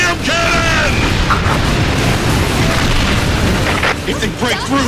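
Booming blasts from the Requiem Cannon in the video game Earth Defense Force 6, firing on a battlefield amid ongoing combat, loud and dense, with deep explosions rolling under shouted voices and scattered higher bursts.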